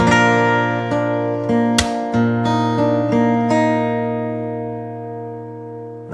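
Slow fingerpicked acoustic guitar bar, close and clear, with a sustained low bass under a handful of separate plucked notes that ring out and fade, plus a brief percussive knock midway.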